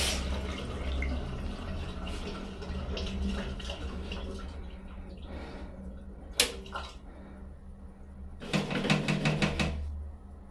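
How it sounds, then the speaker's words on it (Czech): Water runs and drips from a bathroom washbasin drain during drain cleaning, a steady trickling wash with scattered drips and a louder splashing burst near the end. "tady je to z té koupelny. A jo, no, tady má teče voda z umyvadla"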